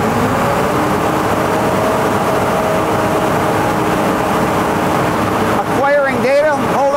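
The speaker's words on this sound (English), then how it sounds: "Rev the engine." A farm tractor's engine idles with a steady low rumble, then revs up near the end, the pitch sweeping up and down in a couple of quick surges.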